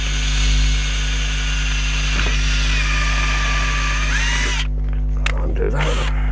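A cordless drill-driver whirs as it drives a screw into a garden planter, the motor humming steadily with brief changes in pitch and a few clicks, stopping near the end with some handling knocks.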